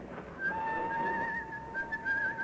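A man whistles a simple tune with sustained pure notes over a faint background murmur of weekend crowds in Waterloo Station, in a 1952 radio drama.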